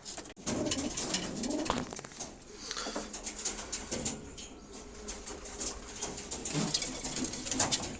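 Sport pigeons coo repeatedly in a loft, soft throaty calls close by amid faint rustling and wing movement, with someone speaking briefly.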